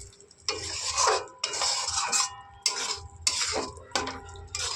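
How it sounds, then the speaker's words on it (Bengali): Spices and yogurt for a spicy mutton curry stirred in a pan over low flame, with repeated scraping and clinking of a utensil against the metal pan in several bursts and a faint steady sizzle underneath. "দেখো, দই দিয়ে ভালো করে কষিয়ে নিয়েছি"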